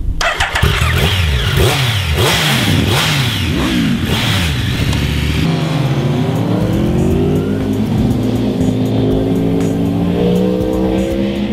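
Naked literbikes, an Aprilia Tuono V4, a Triumph Speed Triple R and an MV Agusta Brutale R, rev hard and accelerate up and down through the gears, loud and close, with rising and falling engine notes and no talking.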